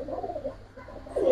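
Pigeons in a small cage giving low, throaty coos, a soft burst at the start and a louder one at the end, close by in otherwise quiet surroundings.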